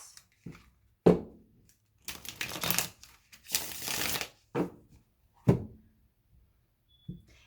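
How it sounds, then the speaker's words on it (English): Tarot cards are riffled and shuffled several times in close, crisp bursts, with brief taps and thumps between the shuffles. "one more shuffle and then I'll cut for Pisces"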